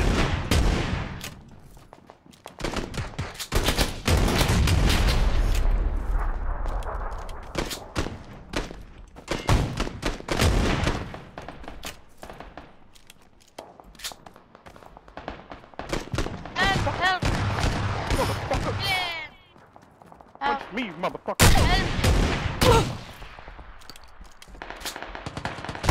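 Dense bursts of automatic and single-shot gunfire in PUBG, a battle royale shooter, crackle in rapid volleys across most of the stretch, loud and close at times, with excited voices shouting over the shooting.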